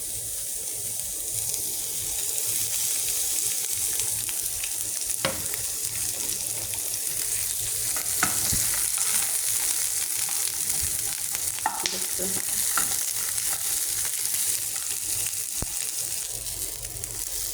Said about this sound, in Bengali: এখানে একটু তেল দিয়ে ভেজে নেব